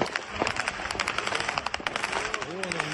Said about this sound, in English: We can hear air defense firing up into the sky.